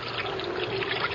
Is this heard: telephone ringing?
no